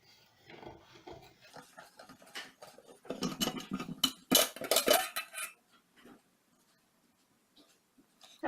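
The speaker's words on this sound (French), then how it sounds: "Donc là, j'ai la cocotte minute et je vais l'ouvrir." A pressure cooker lid being opened, with light metallic clinks, scrapes and rattles that build into a louder burst of clattering before trailing off into near silence; faint and fairly close.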